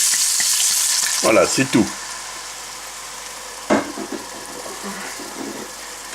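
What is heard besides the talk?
white wine added to sizzling browned onions in pan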